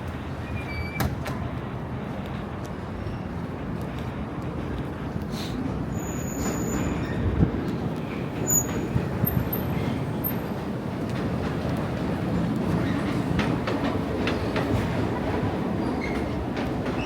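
A New York City subway train runs with a steady, loud rumble and rattle throughout, with occasional brief wheel squeals and metallic clinks over the continuous drone.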